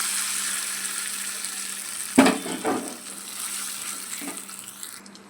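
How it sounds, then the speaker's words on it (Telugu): Hot oil tempering with four dried red chillies and curry leaves is stirred into gongura chutney, giving a steady frying hiss. A sharp clatter and a few softer clinks of stirring sound partway through. "ఇప్పుడు పచ్చడిలోకి పోపు కలుపుకుందాం"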